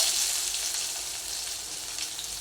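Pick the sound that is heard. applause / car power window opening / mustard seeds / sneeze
mustard seeds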